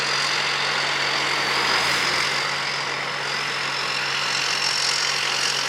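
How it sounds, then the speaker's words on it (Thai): The turbocharged engine of a Thai-built rice combine harvester drones steadily and loudly, with a sustained high turbo whine over rough broadband engine roar, no pauses. "เสียงเทอร์โบเพราะมาก"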